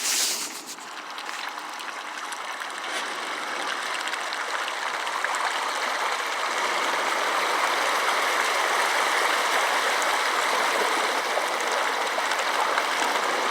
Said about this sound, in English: I'm going to have to drive through this water to turn this boat around.